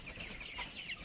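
Tiger chickens, about thirty days old, cluck in a dense overlapping chorus from a large flock of around 500 birds, with steady chattering calls that swell and fade without any talking.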